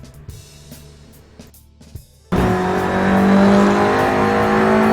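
A car driven at full throttle on the Nürburgring Nordschleife; after a quieter opening with a few knocks, a loud, sustained engine roar with steady high revs takes over abruptly and continues to the end.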